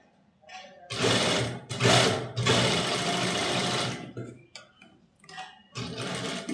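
A sewing machine stitches a V neckline on a garment in loud, close bursts of rapid stitching, roughly three runs broken by brief pauses and small handling sounds.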